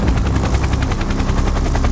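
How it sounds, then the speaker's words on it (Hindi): An Indian Air Force military helicopter sits on a helipad in the Siachen region while being loaded with supplies, its rotor beating in a loud, close, rapid rhythmic chop over a heavy engine roar. "हेलीपैड पर काफी गहमा गहमी है क्योंकि सोल्जर्स हेलीकॉप्टर में सारे जरूरी सामान को लाद रहे हैं।"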